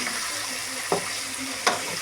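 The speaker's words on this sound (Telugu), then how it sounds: "Mix mix mix." Curry with drumsticks being stirred in a pan, a soft steady sizzle under two brief scraping strokes of the spoon, close and moderately quiet.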